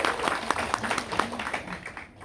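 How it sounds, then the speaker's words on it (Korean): Audience applause with clearly distinct claps over a continuous crowd patter, steady and fairly close, fading slightly at the very end. "저는 다시 한번 박수 한번 부탁드리겠습니다"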